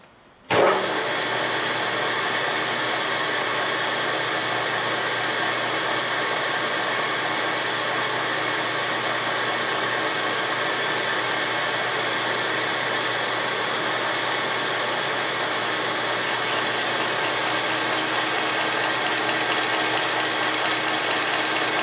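Renault H-beam connecting rods for a DeLorean are machined by a machine that starts abruptly, then settles into a loud steady mechanical drone with a faint shift near the end and no speech.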